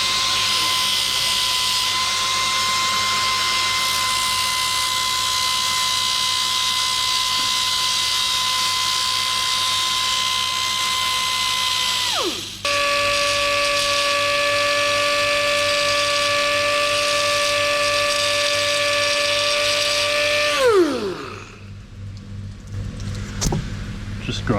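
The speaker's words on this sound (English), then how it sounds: "Just grinding some channels for the wire" Rotary tool grinding wire channels into a stone fishing lure, a steady high-pitched whine that drops in pitch midway, then winds down and stops near the end, with faint handling noise after.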